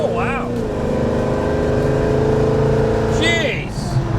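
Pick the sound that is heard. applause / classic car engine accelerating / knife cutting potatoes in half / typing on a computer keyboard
classic car engine accelerating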